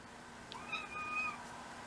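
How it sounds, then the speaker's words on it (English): A house cat meows from a sink, giving one faint, drawn-out cry with a slight rising pitch against a steady background hum. "My cat is sassing me from the sink."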